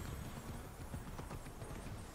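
Horse hooves in the video game Immortals Fenyx Rising clip-clop steadily and quickly, as though at a trot, under a dense, noisy wash of game ambience and music.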